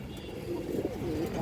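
A female pigeon gives a soft, low, rolling coo close by over a constant background murmur.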